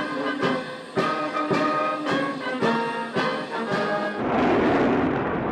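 Cannon salute fired 21 times at a state welcome in Jordan, heard as a steady run of heavy booms about half a second apart, each followed by a rumbling tail that builds into a dense roar near the end.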